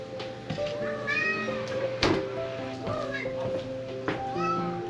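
A cat meows several times on a farm during stormy-season chores, its rising and falling calls repeating over a steady background hum, with a voice and other people talking nearby.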